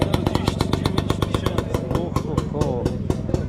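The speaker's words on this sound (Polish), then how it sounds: "Kolekcjonerski motocykl." A collector's motorcycle engine runs at a motorcycle bazaar in Łódź, a rapid close putter of regular firing pulses, with a voice talking over it.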